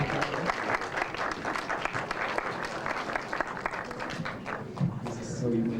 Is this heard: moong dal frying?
no